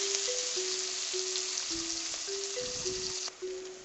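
Onions fry in a pan for stuffed semolina idli: a steady, close hiss of sizzling fat runs unbroken under a thin, wavering electronic tone, with no voices.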